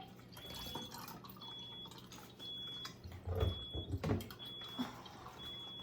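Cleaning liquid poured into a container, heard as a series of drips and liquid splashes, briefly louder in the middle, with a faint steady high tone in the background.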